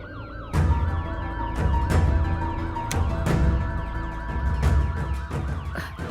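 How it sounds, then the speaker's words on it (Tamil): A wailing siren rises and falls steadily over several seconds, fairly close, with sharp clanks and traffic rumble in the background. "ஏதோ சைரன் சத்தம் கேட்டுட்டு இருக்கு. போலீஸ் சைரன் தானே அது?"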